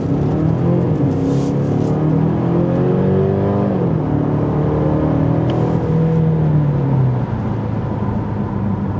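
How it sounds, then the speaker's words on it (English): A Genesis G70 sedan with a 2.5-litre turbocharged four-cylinder accelerates hard down a straight, its engine growl loud and continuous as the pitch climbs through the gears. "the growl of that Turbo 4, it sounds really pleasing"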